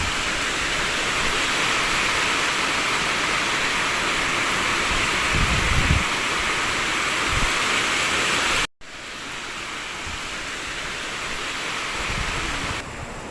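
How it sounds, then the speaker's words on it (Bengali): Strong stormy wind blows across a Maldives island during a storm, a loud, steady broadband roar close to the microphone with a few low gusty buffets and a brief dropout midway, no voices. "তবে বাতাস খুব বেশি, বাতাসের বেগ খুবই বেশি আজকে।"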